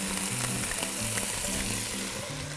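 Beef frying in a hot wok, giving a dense continuous sizzle with faint scraping at times, loud and close with no speech.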